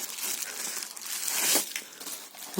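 Plastic packaging bag around a JIKONG JK-B1A8S20P 200 A battery management system for an 8S lithium iron phosphate pack, crinkling and rustling steadily up close as it is handled, swelling to a louder crunch midway, with no talk.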